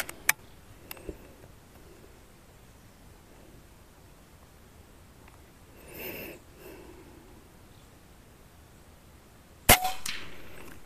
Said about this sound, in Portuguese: Primeiro disparo.